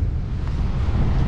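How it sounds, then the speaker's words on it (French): Strong wind buffets a microphone on a rooftop in Denmark, a steady loud roar with low rumbling gusts throughout and no voices. "Et un vent, mais un vent de fou."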